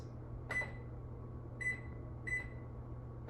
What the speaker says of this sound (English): make sure you place it in the microwave somewhere and then set the cook time to 25 seconds.